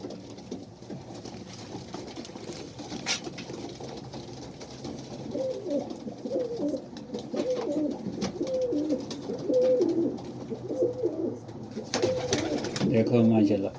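Flying pigeons kept by a pigeon fancier in Saudi Arabia coo in repeated soft, throaty phrases that grow fuller toward the end, with background hum and possible voices nearby.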